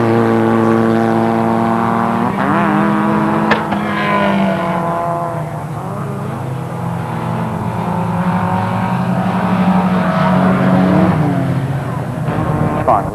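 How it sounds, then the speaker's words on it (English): Rallycross race cars at Lydden Hill circuit howl past in a continuous loud roar, with several overlapping engine notes rising and falling as the cars accelerate and shift through the race finish. "as the checkered flag comes out, and it's going to be victory for number 26 Trevor Orman"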